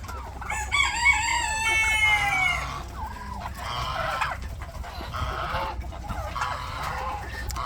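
A flock of mixed poultry, including chickens, ducks and Muscovy ducks, clucks and squawks nearby, with a rooster crowing early on amid steady farmyard noise.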